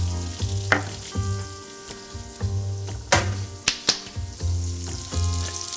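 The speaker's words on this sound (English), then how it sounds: "gotta sear that, look at that sear" Burger patty with onions searing in butter over high heat, a steady loud sizzle with sharp pops and crackles, plus a few clanks of a utensil against the pan and no talking.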